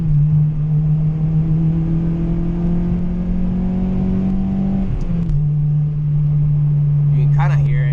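A 2002 Acura RSX driving, its engine and muffled exhaust a steady loud drone that climbs gradually in pitch, then drops suddenly as if on a gear change and settles into a lower even hum.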